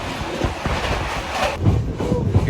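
An Indian Railways train runs on a long-distance journey from Haridwar to Hyderabad, heard from inside a crowded general coach as a loud, close rumble with rattling and a few rhythmic wheel clacks.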